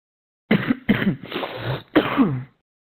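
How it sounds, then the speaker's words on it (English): A man coughs over online voice chat during a Ghost Recon Wildlands session, three harsh close bursts, the last two running together with a throaty rasp, loud with no other sound between. "I must mute the coughing guy."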